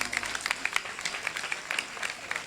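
Audience applause at a large outdoor prayer meeting on a ground, a steady wash of many hands clapping with scattered sharper claps, moderately loud and continuous.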